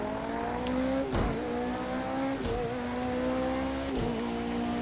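An IMSA race car engine drones at high revs while racing on a dirt track in a racing game, with a steady harmonic whine and three brief gear-shift dips in pitch, loud and close.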